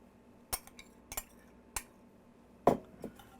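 A utensil mixes crushed Ritz crackers with a tablespoon of butter in a bowl for a casserole topping, giving a handful of separate clinks and scrapes against quiet background.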